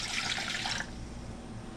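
Water pours into a pot for cooking long grain rice, a steady broad splashing rush for just under a second that then drops to a quieter low trickle, heard alone without talk.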